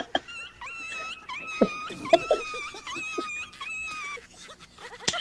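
A human voice imitates a whimpering puppy with a run of high, wavering whines and yelps, close up and fairly loud.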